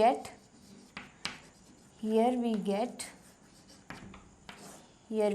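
Marker or chalk strokes on a board during a maths lesson make short scratchy rasps between stretches of someone speaking.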